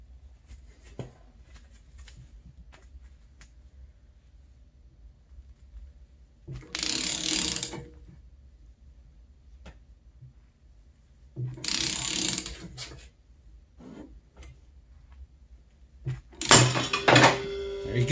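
A ratchet threads a 15/16 bolt into a clutch removal tool on an Arctic Cat clutch, hydro-lock method: three separate bursts of rapid clicking close by, with near silence between them.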